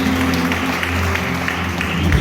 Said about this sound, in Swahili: Ongeza makofi kwa Mungu wetu wa Kristo